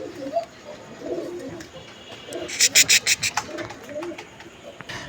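Fancy pigeons at a pigeon seller coo softly and repeatedly nearby, with a quick run of flapping or scuffling partway through and faint voices in the background.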